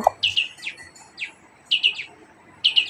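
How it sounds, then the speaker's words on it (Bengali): Sparrows chirp outside a window in the evening, giving short bright tweets in quick clusters of two or three, separated by brief pauses, fairly close and clear over a quiet background. "বিকেলবেলায় জানলা দিয়ে এত সুন্দর পাখির আওয়াজ আসছিল"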